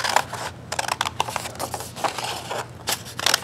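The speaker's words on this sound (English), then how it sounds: "take my scissors and start by cutting" Scissors snip paper repeatedly at close range, a quick irregular run of crisp cuts and rustles with no voices.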